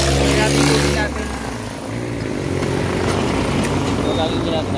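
A motorcycle engine drones loud and close while riding on a provincial road, its pitch wavering and briefly easing before settling back into a steady buzz.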